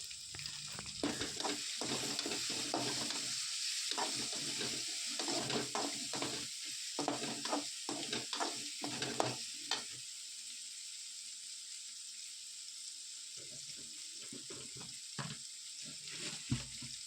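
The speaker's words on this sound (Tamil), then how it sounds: "இது கூட வந்து கொஞ்சமாக கருவேப்பிலை சேர்த்துக்கிறேன்." Curry leaves sizzle in hot oil in a frying pan with tomatoes and turmeric, irregular scraping stir strokes clattering over a soft, steady frying hiss, then quieter sizzling.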